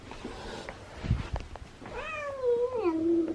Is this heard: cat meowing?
yes